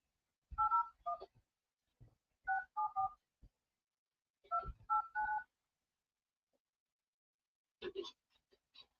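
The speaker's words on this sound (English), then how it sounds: "we've got a couple numbers to call for him." Touch-tone keypad dialing a telephone number, clear dual-tone beeps in short bursts of one to four presses separated by pauses, fairly loud and alone with no talk.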